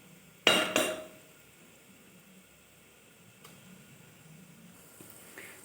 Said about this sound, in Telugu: సింపుల్గా గుడ్డు కూడా వేసేసుకుంటా.